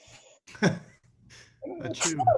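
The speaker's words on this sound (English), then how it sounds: "I'm going to sneeze" A single sharp sneeze bursts out, followed by a brief pause and then some close, breathy vocal sounds.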